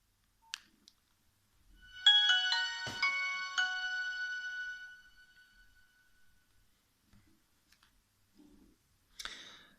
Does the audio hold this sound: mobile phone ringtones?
yes